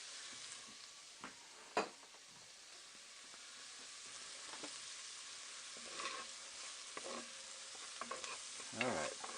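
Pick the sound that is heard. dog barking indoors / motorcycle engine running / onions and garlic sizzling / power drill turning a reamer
onions and garlic sizzling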